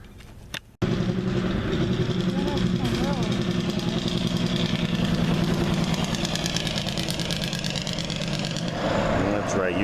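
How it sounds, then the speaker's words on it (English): In a small town in the middle of the night, a truck's exhaust brake blats in a rapid, loud staccato that runs for several seconds after a sharp bump, then fades toward an idle. "use that exhaust brake in a small town, wake everybody up"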